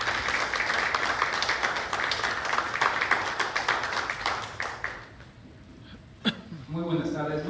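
A conference audience applauds to open a talk, heard as dense, steady clapping that fills the room for about five seconds, then thins out and stops, with a voice beginning to speak afterward.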